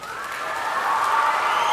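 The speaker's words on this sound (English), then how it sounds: "As loud as humanly possible now, I want you to applaud your families and your teachers." Middle school students at an awards ceremony applauding their families and teachers, a dense, sustained wash of clapping and crowd noise that swells steadily louder, with no single voice standing out.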